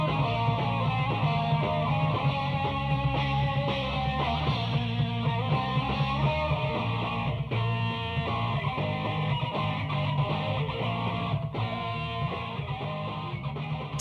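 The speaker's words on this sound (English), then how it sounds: "it sounds like a sixth generation cassette tape" A 1999 demo track plays as a dense, muffled rehearsal recording with cassette-like lo-fi quality. Band instruments blur together at a steady, fairly quiet level throughout, with no one talking over it.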